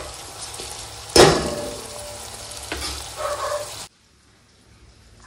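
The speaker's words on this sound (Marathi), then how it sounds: "आता पुन्हा आपल्याला मीडियम फ्लेमवर टोमॅटो नरम होईपर्यंत शिजवून घ्यायचं आहे." Tomatoes cooking over a medium flame in a pan, with a sharp sizzle as they hit the hot oil, then steady frying crackle and a few stirring scrapes before the sound cuts off.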